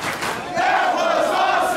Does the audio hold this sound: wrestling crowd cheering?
yes